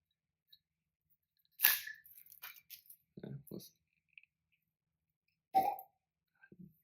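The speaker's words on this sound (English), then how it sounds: "Not a bad cork pop." A cork pulled from a bottle of Peg Leg Porker bourbon, giving a sharp pop followed by short clinks and handling noises, then a second crisp pop, all close and isolated in a quiet room.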